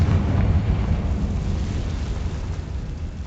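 Confringo fire spell blast in the game Hogwarts Legacy: a loud, dense low rumbling burst that holds steady across the moment before slowly tapering off.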